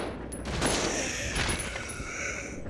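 Gunfire in the Resident Evil Zero video game: a burst of sharp shot reports with ringing metallic tails and mechanical clicks, moderately loud, no talking.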